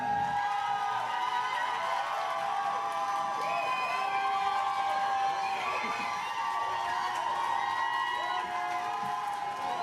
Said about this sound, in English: Do we hear it for River and the nerds?